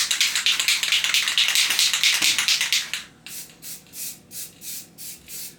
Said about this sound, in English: chrome, bright coat chrome spray paint